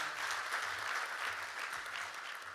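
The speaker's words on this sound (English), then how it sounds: "Another round of applause, ladies and gentlemen." Another round of applause from the audience at a national ICT job fair, a dense, continuous wash of clapping that holds steady and full for the whole stretch.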